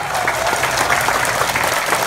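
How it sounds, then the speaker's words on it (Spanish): An audience applauds loudly and continuously, with dense close clapping throughout, as a politician is honored at a public event in Sinaloa. "les doy un aplauso para mi compañera y amiga Diana Armenta"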